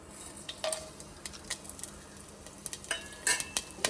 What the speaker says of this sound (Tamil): எண்ணெய் காஞ்சதும் நம்ம எடுத்து வச்சுருக்க ஏலக்காய், பட்டை, கிராம்பு, சோம்பு, சீரகம், கல்பாசி எல்லாம் போட்டுடலாம்